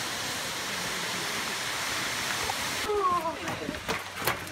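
Upper South Falls at Silver Creek Falls in an Oregon state park roars as a steady, dense rush of falling water, loud and continuous throughout, with brief clattering sounds and faint voices over it near the end.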